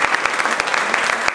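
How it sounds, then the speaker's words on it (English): An audience at a poetry night claps steadily and loudly for a short burst of dense, continuous applause. "Y'all clap one more time."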